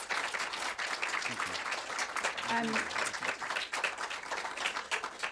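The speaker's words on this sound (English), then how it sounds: "Can I ask for a round of applause for our speakers?" Audience applause for the speakers at an evening address event, a sustained wash of clapping across the room with a brief voice murmuring partway through.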